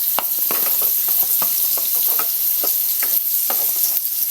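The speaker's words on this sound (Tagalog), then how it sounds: "Dito sa pinagprituhan natin ng tokwa, yan, dito na tayo magigisa." Garlic and onion sautéing in leftover oil from frying tofu, a loud constant hiss of sizzling with irregular clacks of a utensil stirring against the pan, close up and without speech.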